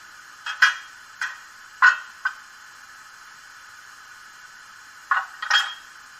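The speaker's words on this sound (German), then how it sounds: "Dann gibt es ein Kuppelgeräusch." A few sharp metallic clanks and clicks of a coupling sound from a brass Gauge 1 model BR 81 steam locomotive, scattered in short bursts with a pause in the middle, over a faint steady hiss.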